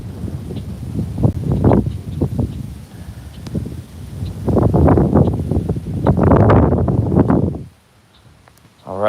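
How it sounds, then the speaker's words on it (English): Strong wind buffets the microphone on a lakeside walk in loud rumbling gusts, surging and fading repeatedly, with a brief lull near the end. "It's so windy."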